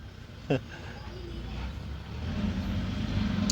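A dump truck arriving at a soil-dumping site, its engine rumbling low and growing steadily louder as it approaches, with a brief sharp knock early on.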